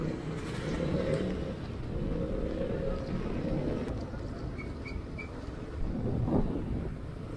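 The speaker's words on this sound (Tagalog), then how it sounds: "Ulan at hangin." Rain and wind from Typhoon Uwan make a steady, dense roar of broadband noise near a river at dusk, with gusts swelling briefly toward the end.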